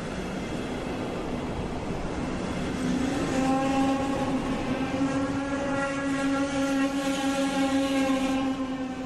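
A steady electric train hum with rising whining tones, continuous rumble throughout, no voices: a DB Class 112 electric locomotive entering Bad Oldesloe station.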